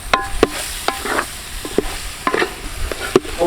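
Washed rabbit pieces are stirred into sizzling masala in a pan, with a spoon scraping and clacking in an irregular rhythm over a soft frying sizzle, close by and with no speech.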